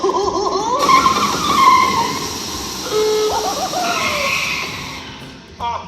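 A taxi skids with squealing tires during the Muppet Vision 3D show at Walt Disney World, loud and close, rising and wavering over several seconds amid show audio with voices.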